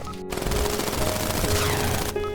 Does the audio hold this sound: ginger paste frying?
no